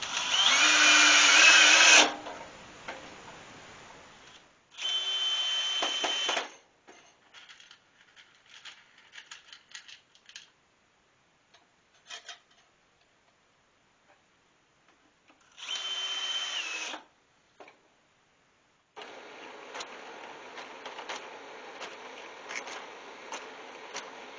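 A power drill drives a screw into wood in three separate bursts of whining motor, each a second or two long. Quiet shuffling and handling noises fill the gaps between bursts.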